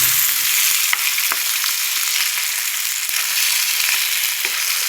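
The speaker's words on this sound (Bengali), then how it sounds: "এই যে বাকি মাছগুলো ভেজে নিচ্ছি" Fish frying in a hot pan for a home-style fish curry, a steady loud sizzle with a few faint clicks and scrapes throughout, no talk.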